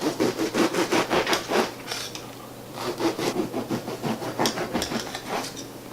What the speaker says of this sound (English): we're going to take our French bread and cut it into slices